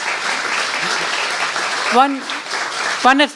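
An audience at a property-investment seminar claps for a coach, a brief burst of applause with voices cutting in over it near the end.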